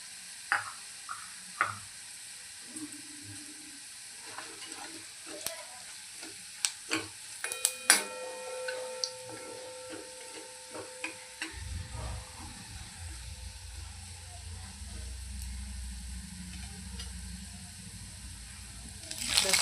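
Cumin seeds drop into hot oil with garlic already turned golden for a mixed-dal sambar, with scattered clinks and scrapes at first, then a steady, close sizzle that holds to the end.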